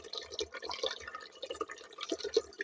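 Water pours and splashes in small gurgling bursts into chicken being soaked, quiet and close, with no one talking.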